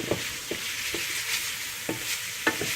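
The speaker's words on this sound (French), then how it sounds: "On mélange un peu pour que le paprika soit bien dispersé entre tous les aliments" A pan of food dusted with paprika is stirred with a utensil, giving several soft scraping strokes at irregular intervals over a faint background sizzle, close and quiet, with no talking.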